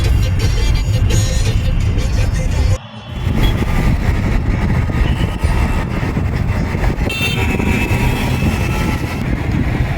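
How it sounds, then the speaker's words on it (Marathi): Dense, loud Mumbai street traffic roars close by in a steady rumble of engines and road noise, with one short dip near the start, no voices. "आणि तुम्ही मुंबईचा ट्रॅफिक पण बघू शकतात"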